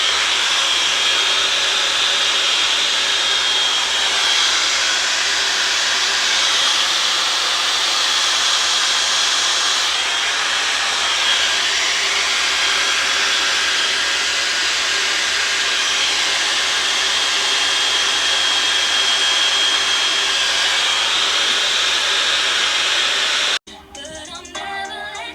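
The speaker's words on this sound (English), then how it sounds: "This is a Dyson, so they have the cold air option on it. This is the best blow dryer I ever had in my life." A Dyson blow dryer runs on its cold air setting to dry wig glue, giving a loud, steady whooshing airflow that holds for about twenty-three seconds before it cuts off abruptly.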